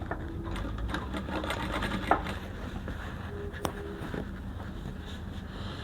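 A sewing machine hems the side and lower edge of a kaftan gown, running as a steady quiet whir with a few small clicks and knocks, with no talking.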